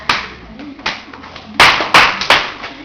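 Hand claps ring out sharp and close, a few isolated slaps then a quick cluster of loud ones, spaced unevenly against a quiet room with music or voice faintly beneath.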